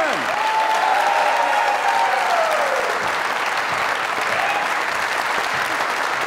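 Sustained, dense applause from a large crowd, steady and loud throughout with no pause.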